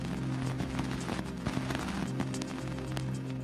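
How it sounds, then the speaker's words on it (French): Dust from Saturn's F ring striking the antenna of the Cassini probe, converted into audio, forms a dense, continuous crackling patter of many tiny impacts over a steady humming tone, without pause throughout. "Voici le bruit des poussières heurtant l'antenne de l'engin."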